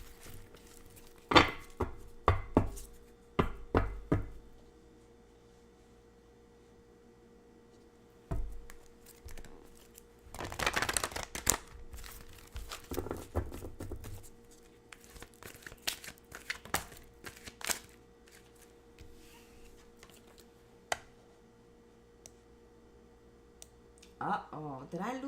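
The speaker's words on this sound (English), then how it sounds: "Let's give the cards a good shuffle." Tarot cards being shuffled in short, crisp bursts of riffling and tapping, spread out irregularly over half a minute, with some quiet stretches and a louder flurry in the middle.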